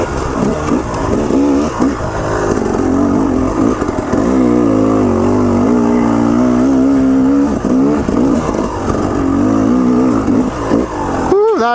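A KTM 300 Enduro two-stroke dirt bike is ridden off-road, its engine loud and close, rising and falling in pitch as it revs continuously through the ride.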